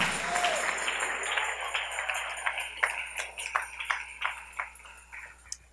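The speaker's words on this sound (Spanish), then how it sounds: "Denle ese aplauso al Rey en esta hermosa y linda tarde" A church congregation claps during a Spanish-language sermon, steady applause that thins into scattered individual claps toward the end, at moderate volume in a reverberant hall.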